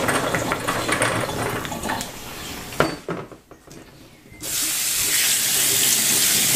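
Tap water pours steadily over soaked chickpeas in a kitchen sink, a loud rushing stream that pauses briefly and then resumes strongly.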